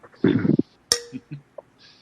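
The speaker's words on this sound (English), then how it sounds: "It sounds like you're banging together two, like, soup spoons." A few sharp metallic clinks like two soup spoons banging together, spaced irregularly, with a short burst of clattering noise before them; close and fairly quiet.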